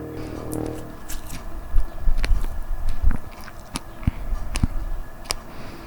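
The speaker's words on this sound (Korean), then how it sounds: "딸기 먹는 소리 한번 그럼 녹음해볼래?" Close, moist biting and soft chewing of a strawberry repeat irregularly, with a few crisp clicks and squishes over a faint background hum.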